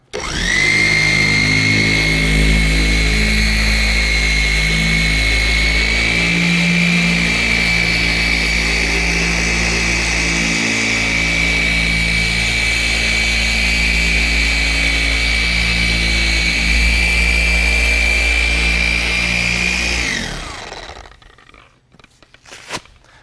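A Porter Cable machine polisher running at speed five, a loud, steady, close motor whine holding constant for about twenty seconds before spinning down and stopping.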